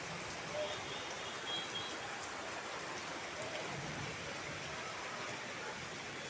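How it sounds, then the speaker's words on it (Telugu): Heavy rain falling outdoors in a steady, broad hiss, rather faint and distant, continuous with no pauses and occasional faint background murmur. "పెద్ద వాన వస్తుంది."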